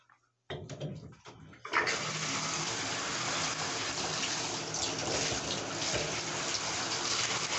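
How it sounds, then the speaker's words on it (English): Bathtub tap turned on after a few quiet handling clicks, then a steady, loud gush of water pouring continuously into the tub, close by with no talk. "And then I start running the water."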